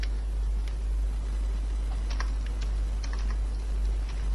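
Soft keystrokes tap on a computer keyboard while a PHP page called captcha is named, with a few scattered clicks over a steady low electrical hum.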